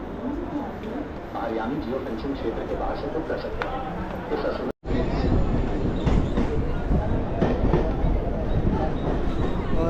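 A Mumbai local train from Borivali arriving at Bandra station: a steady loud rumble of rolling wagons with faint clatter runs throughout, briefly cutting out midway, with crowd noise beneath.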